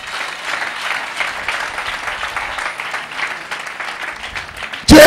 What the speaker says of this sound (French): Alors acclamons le Seigneur.